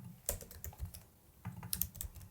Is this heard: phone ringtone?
no